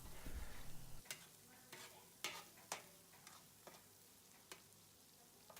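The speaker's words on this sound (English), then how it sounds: "I stir fry it for 5 to 7 minutes until it has reduced and it turns" Sieved tomato or passata stir-fried in a pan as the base for a Valencian seafood paella: a quiet, low sizzle under a series of sharp spoon scrapes and clinks spaced about half a second to a second apart.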